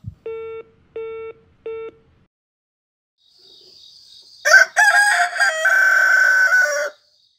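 Three short electronic tones of a telephone sounding after a call is hung up, evenly spaced and clear, followed by a rising hum and then a loud, dense mix of sounds lasting a couple of seconds.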